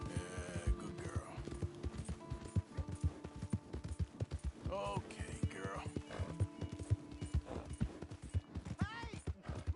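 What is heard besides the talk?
horse hooves and whinny, video game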